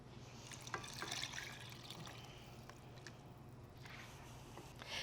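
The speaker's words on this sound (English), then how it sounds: "last but not least, about 2 cups of water." About two cups of water poured into a pot of pork vindaloo made with distilled white vinegar, a soft steady splashing trickle at moderate distance that runs the whole stretch with brief drips and sloshes.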